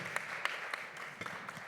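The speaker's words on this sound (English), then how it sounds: "let's give her another round of applause" Audience applause after a speaker at a live talk event, a moderately loud, steady wash of clapping with a few sharper individual claps standing out, carrying on without voices for nearly two seconds.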